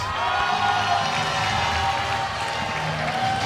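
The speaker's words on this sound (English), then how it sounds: "And the Spanish crowd goes wild." A Spanish crowd at the European 3D archery championships in Maribor cheering and applauding a silver medal, a dense, continuous roar of claps and shouts filling the whole stretch.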